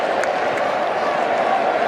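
Cricket match crowd of about 26,000 applauding at an Australia versus New Zealand game, a steady dense wash of clapping and crowd noise sustained throughout, fairly loud and distant-sounding.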